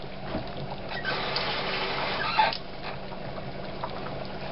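Cold water trickles and splashes into a coffee cup holding a little cornstarch in a home kitchen, a soft continuous pour that swells briefly before easing off, fairly close and fairly quiet.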